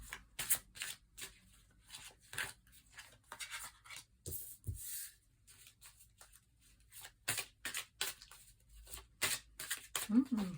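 Tarot cards are shuffled and drawn in soft riffling bursts and light slaps, repeated at an irregular pace, faint and close.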